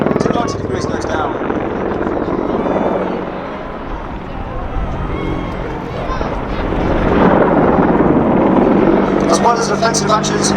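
An Army Air Corps military helicopter flies a display at Duxford Air Festival, its rotor and engine roaring steadily and swelling as it passes, with wind buffeting on the microphone.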